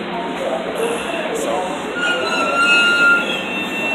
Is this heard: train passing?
yes